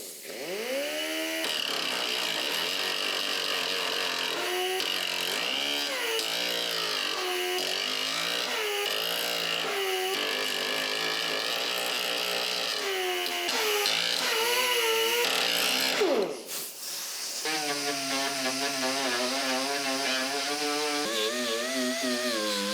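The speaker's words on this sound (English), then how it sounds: "Just show you a little bit of the grinding process." Belt grinder running 3M belts to grind down welds on a 1972 Camaro door, a loud continuous whine that shifts in pitch as the metal is pressed and eased off, with a brief break near the end.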